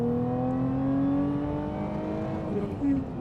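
Supercharged Ford GT500-class car with roughly 400 horsepower and about a 6,500 RPM redline, its engine rising steadily in pitch as it accelerates through a gear, loud and close from inside the cabin.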